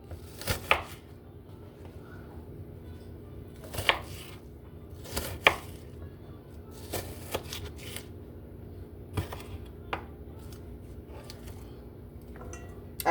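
Yellow onions chopped with a small kitchen knife on a cutting board in an apartment kitchen, about a dozen sharp, separate knocks spread unevenly over a low steady hum, with no talking.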